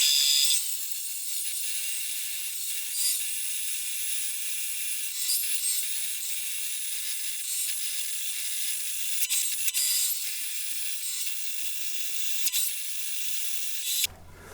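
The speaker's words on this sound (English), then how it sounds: "I'm just going to have to bite the bullet now and get it to the bandsaw" A bandsaw cuts through a wooden guitar body blank to thin it down, a continuous high-pitched blade hiss with slight fluctuations that runs steadily before stopping abruptly at the end.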